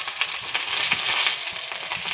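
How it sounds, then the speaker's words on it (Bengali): Marinated okra frying in hot oil in a pan, giving a steady, close crackling sizzle that holds evenly for about two seconds, with no voices. "ম্যারিনেশন করা ভেন্ডিটা দিয়ে দিয়েছি তেলেতে।"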